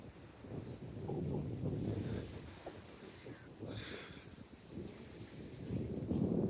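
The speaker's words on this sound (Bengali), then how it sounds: "প্রচুর পরিমাণ বাতাস" Strong wind rushes and buffets the microphone while parasailing high above the beach at Cox's Bazar, rising and falling in gusts with a brief sharper hiss midway.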